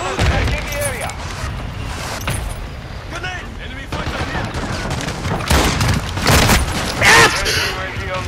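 Shotgun fire in a video game with the Expedite-12, repeated loud booming blasts scattered through a chaotic firefight, with players shouting over the shots.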